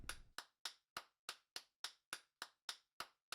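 Steady, evenly spaced claps from a character in the video game Trails of Cold Steel, about a dozen sharp hand claps in a row, close and crisp with no voices.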